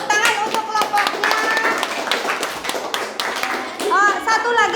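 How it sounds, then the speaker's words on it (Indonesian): A classroom full of seventh-grade children claps together in a burst of applause for a group, with kids' voices chattering and calling out over the clapping. "Tepuk tangan untuk kelompoknya."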